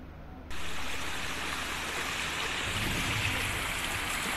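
A river stream flows with a constant broadband rush that swells in abruptly and then holds steady, close and fairly loud, with no voices over it.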